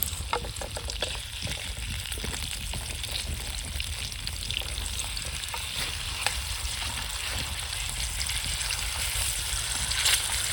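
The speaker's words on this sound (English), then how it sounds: "Gotta get the sizzle." Steak sizzles and crackles steadily in a hot pan outdoors, a continuous close hiss with scattered pops, no talking.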